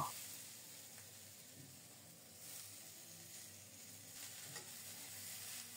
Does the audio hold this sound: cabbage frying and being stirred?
yes